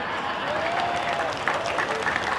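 Audience applause at a political speech on vote-buying, a dense steady wash of clapping with a voice briefly calling out over it, sustained across the whole stretch.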